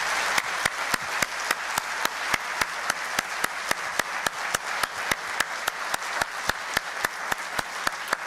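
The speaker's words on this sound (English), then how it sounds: "I want to give one more round of applause to all of our recipients tonight" Applause at a fire department awards ceremony for recipients, steady clapping with regular sharp claps standing out in an even rhythm throughout, moderately distant.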